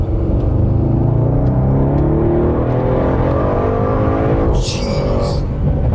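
An Audi RS7 engine roars loud and near, revving in a sustained, rising and falling growl, with a sharp burst of exhaust crackle near the end and a voice speaking under it.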